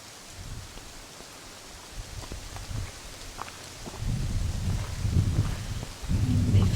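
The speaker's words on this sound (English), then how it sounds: "Even though it's raining and there's still wind" Rain and gusting wind move through a Pyrenees forest during a storm, a soft steady patter with low rumbling gusts that swell louder toward the end; nobody speaks.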